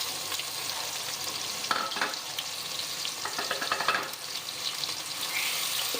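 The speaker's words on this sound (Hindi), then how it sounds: "अब इसके अंदर हम डाल देंगे प्याज।" Chopped onions sizzle in hot oil with lightly toasted cumin seeds in a pan. A steady, fairly quiet frying hiss runs throughout, broken by a few brief stirring scrapes and crackles.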